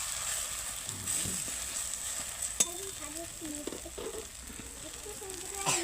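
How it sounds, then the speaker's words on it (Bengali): Flatbread rolls lightly toasting in a pan, a steady low sizzle with scattered scrapes and small clicks, faint voices underneath. "এভাবে রুটিগুলোকে হালকা সেঁকে নিলে ভালো হবে রোলটা।"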